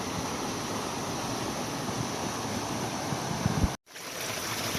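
A mountain river flows along the Pacific Crest Trail near Rockhouse Basin, a steady broadband rush that fills the clip alone and then drops out abruptly for a moment before resuming.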